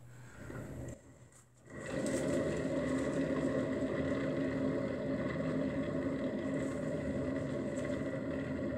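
A spinner turning a fluid art ring pour painting, a steady motor whir with a hum that pauses briefly near the start and then runs continuously and fairly quietly to the end.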